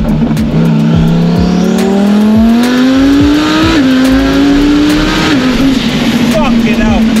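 A twin-turbo Lamborghini Huracan Performante accelerates hard on low boost, its engine note climbing loudly through gears with brief shift dips and turbo whoosh, close and dominant, with people talking over it.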